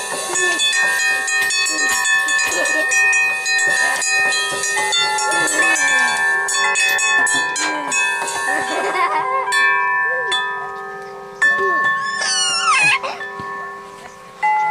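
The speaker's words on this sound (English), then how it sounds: "Chimes." Metal wind chimes ring with sustained, shimmering tones that overlap and decay, played by hand at home while children are around; some brief voices and movement sounds occur near the end.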